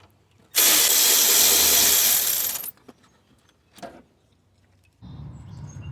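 A ratchet backs out a 10mm bolt on the AC condenser pipe of a Toyota Camry 2.4: one loud, fast ratcheting burst of about two seconds, then a few faint clicks and a soft clunk, and a low rustle at the end.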